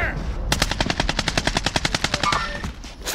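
Rapid automatic gunfire in a first-person shooter, a sustained burst of about twenty evenly spaced loud cracks lasting over two seconds, with faint voices before it.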